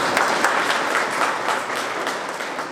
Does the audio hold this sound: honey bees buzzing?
no